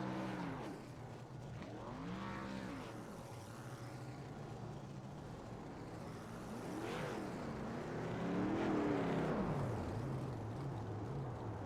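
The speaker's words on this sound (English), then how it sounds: "Time to get that car doing some donuts" Race car spinning donuts on the Kansas track after an ARCA Series win, engine rising and falling in rough revving sweeps, with faint tire noise over a steady broadband roar.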